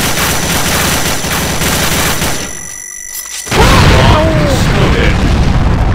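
Dense rapid gunfire crackles continuously in a video game, drops away briefly, then heavy booming grenade blasts and renewed shooting erupt loudly, with a voice talking amid the chaos.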